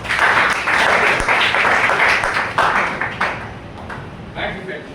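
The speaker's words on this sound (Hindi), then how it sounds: "तो इन तीनों के लिए एक बार जोरदार ताली" Workshop training audience in Panipat breaks into loud applause, dense clapping throughout that tapers slightly toward the end, with voices mixed in.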